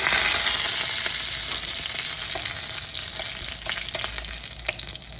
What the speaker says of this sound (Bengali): তেল গরম হয়ে গেছে পুরনে দিয়ে দিচ্ছি পাঁচ পুরন শুকনা লঙ্কা